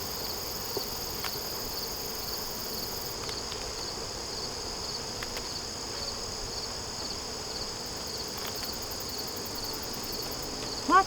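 Honeybees hum and buzz steadily around an open hive during a frame inspection with a brand-new box, a continuous droning swarm with occasional soft clicks and knocks from handling the frames.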